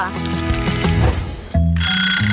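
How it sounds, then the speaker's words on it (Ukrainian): An alarm clock starts ringing in bright, sustained tones, loud and close, following a brief jumble of melodic sounds. "Ой, будильник спрацював."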